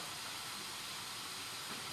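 Vegetables steam in a covered pot with a soft, continuous hiss, steady and close, with no breaks or other sounds.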